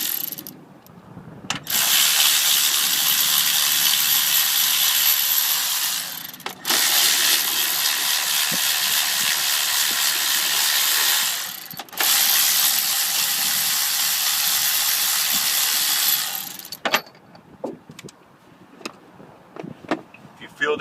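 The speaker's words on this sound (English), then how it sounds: "Everybody asks what type of electric ratchet, battery operated ratchet. It's a Milwaukee M12." Milwaukee M12 battery-operated electric ratchet working on a 6.0 Ford Powerstroke alternator, a loud, close, continuous buzzing whir in three long runs separated by brief stops, followed by scattered clicks and handling noises.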